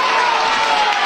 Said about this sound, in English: you can hear the roar from the crowd